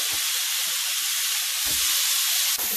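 Veal pieces brown in a frying pan, giving a continuous bright sizzle and hiss, steady and close, with a few soft low bumps from the pan and no talk.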